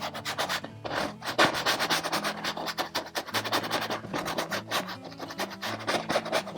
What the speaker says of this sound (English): Let's come in here and let's scrub some of this color in.